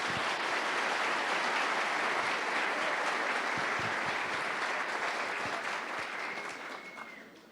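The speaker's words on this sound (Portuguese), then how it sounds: "Vamos aclamar esse texto da palavra de Deus com uma salva de palmas" A church congregation at a Catholic Charismatic Renewal Pentecost assembly breaks into sustained applause, a dense, even roar of many hands that fills the hall before tapering off at the end.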